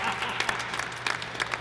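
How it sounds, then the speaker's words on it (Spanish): Audience at a FIFA video game tournament applauding as a guest is introduced, a moderate, fairly even wash of clapping with a low hum beneath and faint voices mixed in. "Un aplauso para él, señoras y señores"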